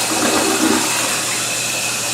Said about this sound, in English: This is an old school high flush toilet.